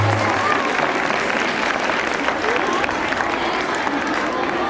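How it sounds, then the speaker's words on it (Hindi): A crowd at an intercollegiate sports fest claps continuously to welcome a guest, a thick, steady burst of applause with a brief voice at the very start. "एक बार जोरदार तालियों से उनका स्वागत करें।"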